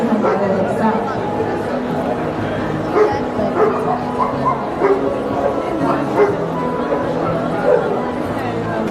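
Dogs bark, yip and whimper steadily amid a busy crowd with overlapping chatter at a dog show in Nitra during a best-puppy competition, the barking close and repeated throughout.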